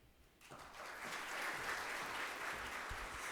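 An ovation at a geography congress, with applause rising quickly from near quiet into a steady, full crowd of clapping that holds at moderate loudness, sounding somewhat distant.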